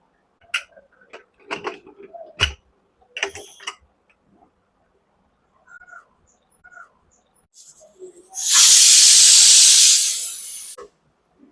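A few soft clicks and clatters, then a loud burst of hissing steam from a pressure cooker whistle cooking beetroot biryani, lasting a couple of seconds before cutting off.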